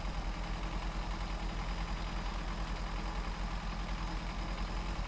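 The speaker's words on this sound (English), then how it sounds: "But for the weak sounding Bandit engine, I said it before when we first tried it, I thought that sounds like a transit van or something" Bandit truck engine in SnowRunner, a weak, van-like motor droning steadily at close range with an even low rumble throughout, no breaks and no voices.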